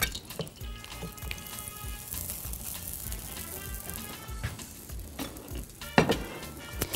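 Food fries in ghee in a home kitchen, giving a continuous dense crackling sizzle with scattered sharper pops and one louder spatter near the end, steady and close with no voices.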